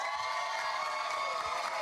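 A crowd of high school students cheers at a school game show, a steady roar of whoops and shouting without a break.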